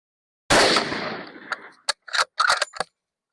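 Rifle fire during zeroing without a suppressor, with one loud sharp report decaying into a ringing tail, then a quick run of shorter clicks and knocks, close by.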